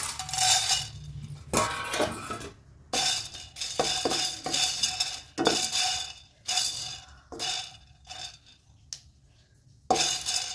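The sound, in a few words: stirring and roasting pickle spices on high heat in pan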